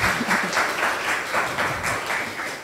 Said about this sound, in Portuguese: Palmas para a Aravo, gente.